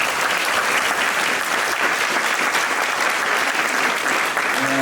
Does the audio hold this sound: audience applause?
yes